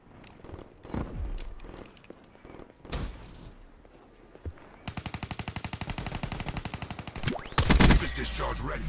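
A level 8 nuclear Basilisk gun in a video game fires in a long, rapid burst of evenly spaced shots, preceded by scattered louder single blasts and ending in a heavy, loud discharge.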